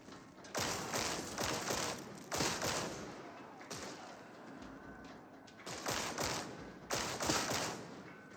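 Automatic gunfire from the Warhammer 40k Darktide video game crackles in several loud, dense bursts separated by short pauses, with no talk.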